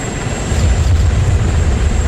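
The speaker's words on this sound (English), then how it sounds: "Just blew up my chopper." A helicopter explodes in the video game ArmA 3 with a deep, rumbling boom that swells and holds for about two seconds.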